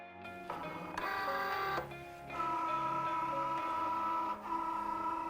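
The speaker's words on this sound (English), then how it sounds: "Then load your card mat into the machine." A Cricut Joy cutting machine draws in a card mat with a steady whirring motor hum whose pitch shifts between phases, close and without voices.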